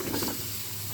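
Chopped bottle gourd drops into an open pot of fried spices, including coriander powder, giving a brief burst of close sizzling that settles into softer, steady frying.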